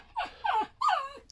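A dog whimpers three times in close succession, each a short rising-then-falling whine, near and fairly clear against a quiet room with no talking.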